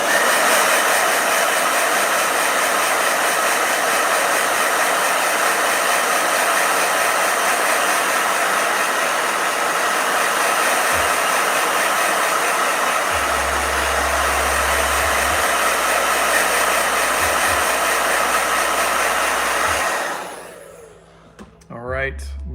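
A blow dryer runs loud and steady, a broad constant whoosh that holds for about twenty seconds before cutting off abruptly, leaving a brief quiet moment.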